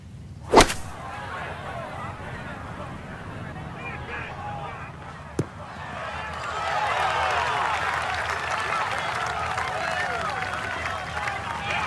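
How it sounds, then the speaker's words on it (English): A golf club striking the ball on an iron shot in the video game EA PGA Tour, a sharp crisp crack near the start with a second small tick later, followed by rising crowd-like background noise. "Just a beautiful iron shot. The sound off that club face."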